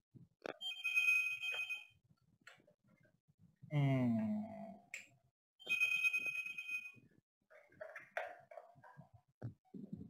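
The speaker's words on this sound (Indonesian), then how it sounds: "ada telepon masuk ke kantor hari ini" An office telephone rings with a bright electronic ringtone in two repeated bursts. A brief voice and faint sighing sounds come between and after the rings, all fairly quiet.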